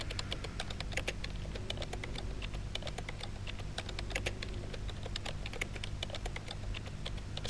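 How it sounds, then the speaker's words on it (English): Rapid, steady clicking of keypad buttons in the sci-fi game Genesis Alpha One, a continuous close patter of key presses over a low ambient hum. "Still typing away on the keypads here."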